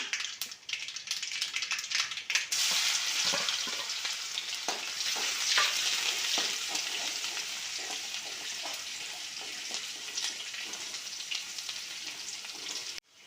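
Mustard seeds frying in sesame oil for a pulicha keerai dish, a bright, busy crackle and popping sizzle, close and steady, with a few sharp spatters near the start, no voices.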